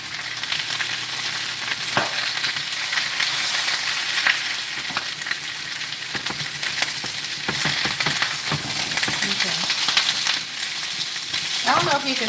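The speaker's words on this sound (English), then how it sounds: "we got them cooking in our sesame oil with our fresh garlic" Vegetables with fresh garlic crackle and sizzle loudly in hot sesame oil, a dense continuous frying hiss with occasional clinks and stirring scrapes close by.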